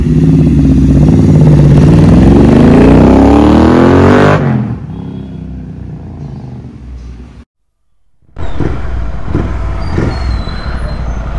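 A Royal Enfield GT 650 with an aftermarket bend-pipe exhaust revs up loudly and close, rising in pitch, then drops to a lower idle, cuts out briefly to silence and returns to a steady burbling idle.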